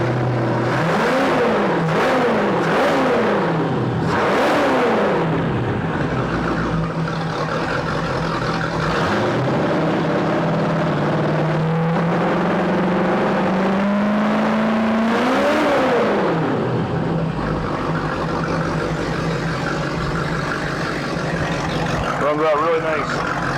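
A 2000 Volvo Penta 5.7GS V8 inboard boat engine running on a stand, a steady loud rumbling idle with repeated revs rising and falling, under someone talking.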